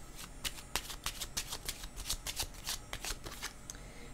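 Tarot cards are shuffled close by, a quiet run of crisp riffling flicks and papery slaps in an uneven rhythm, with no voices.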